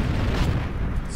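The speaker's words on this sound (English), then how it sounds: "Someone's shooting at me." Heavy gunfire booms in the video game Heroes & Generals, a loud, dense burst of shots and blasts heard up close.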